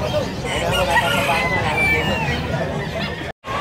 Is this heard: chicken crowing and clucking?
yes